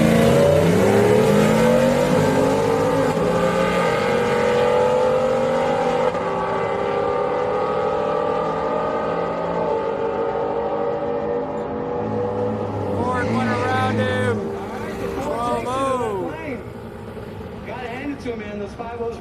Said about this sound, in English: That Ford truck went around the Chevy.